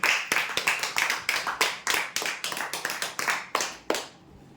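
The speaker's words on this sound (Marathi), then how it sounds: "जोरदार टाळ्या होण्यासाठी" Audience applause at a lucky-draw prize announcement, a fairly close burst of hand claps coming in quick uneven waves for about four seconds, then dying away.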